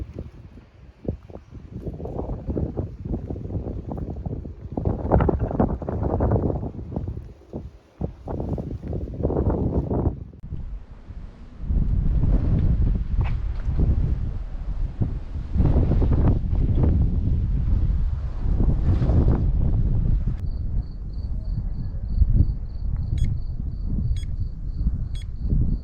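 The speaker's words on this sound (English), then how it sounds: "the wind's kicking up" Wind at a Nevada roadside stop at sunset gusts hard against the microphone, rumbling in uneven surges that later settle into a steady, heavy roar.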